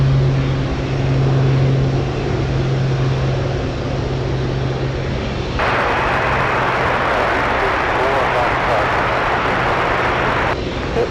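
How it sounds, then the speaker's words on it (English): A Douglas DC-3 propeller airplane taxis at Anchorage airport on a windy day, its loud, steady engine drone rising sharply into a louder roar partway through, then easing slightly near the end. "Let's go over to the DC-3 on the move."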